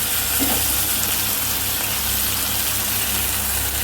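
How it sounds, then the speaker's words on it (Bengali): Two medium-sized chopped onions fry in a pan, giving a continuous, even sizzle with a low steady rumble underneath. "পেঁয়াজটা একটু 2 মিনিট ভাজবো"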